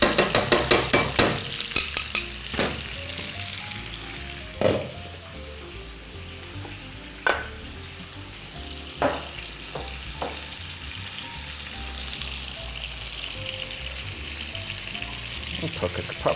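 Ingredients sizzle and crackle in a hot frying pan, with a steady close hiss, sharp spatters at the start and occasional clatters of stirring through the quieter frying that follows.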